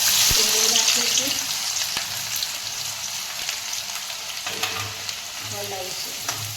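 Onion with cinnamon, black pepper and cloves frying in a pan and being stirred, a constant close sizzle with scattered spoon clicks and scrapes, while faint background music plays underneath.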